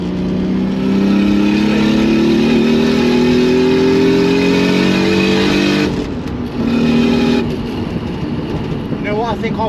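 A manual Toyota Supra with a single turbo revs hard while driving. Its engine drone climbs steadily and stays loud and close, then dips briefly at a gear change before pulling again. A faint turbo whistle rides on top.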